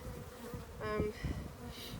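Honey bees buzz steadily from an opened hive as frames are pulled out during a winter inspection, a close, continuous insect drone with a few brief sharper whines from individual bees.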